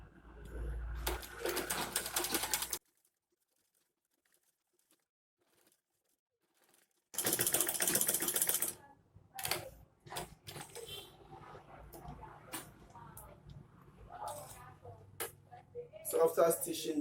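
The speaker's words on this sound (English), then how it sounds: "take your lining and place it like this and stitch it down. So let's go and stitch it." A sewing machine stitches down the lining of a box pouch in two loud, fast-running bursts of a couple of seconds each, separated by quiet. A person talks quietly in the later part.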